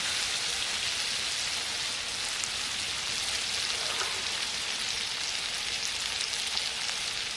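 Green chillies, curry leaves and cumin sizzle in hot oil for a spice tempering in a village kitchen, a steady dense frying hiss that holds unbroken and loud throughout with no talking.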